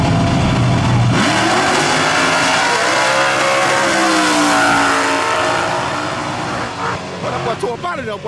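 A drag race car launches hard from the line at a grudge race in Barbour County, its loud sustained engine roar rising in pitch and fading as it pulls away, with crowd voices and talk over it.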